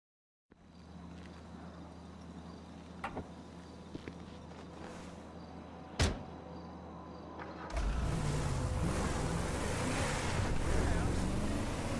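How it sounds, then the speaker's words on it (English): In GTA V, a steady rumbling boat engine drone with a low hum at a port, then a louder rush of water and wind swells in partway through, with a few brief clicks. "They got boats coming in and out."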